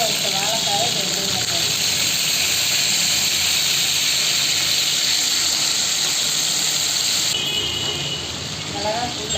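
Boiled plantain pieces frying in oil blended with mustard oil, a steady close hiss and sizzle that runs unbroken, with a voice speaking over it at the start and end.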